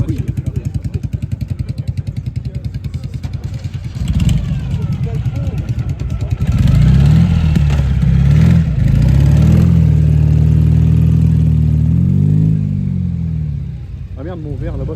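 A Royal Enfield motorcycle fitted with a sidecar runs with a steady, close, pulsing engine note. It is thumping at idle at first, then louder and heavier as it revs in the middle, before settling back. People talk over it.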